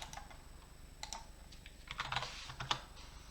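Quick, uneven tapping of random letters on a computer keyboard, close and fairly quiet, with clusters of keystrokes bunching together toward the end.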